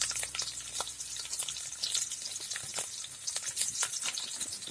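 Cumin, garlic, green chilli and ginger fry in hot oil for a Mangalore-style Marwai Pundi, giving a steady close sizzle with crackling pops and spits and occasional stirring clinks, with no voices.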